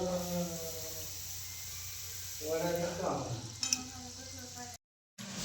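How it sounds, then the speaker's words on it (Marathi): Shankarpali dough fries in hot oil with a soft, steady sizzle, joined by occasional light stirring clatter. The sound cuts out briefly near the end. "आता मी पहिले बॅच तळायला टाकली"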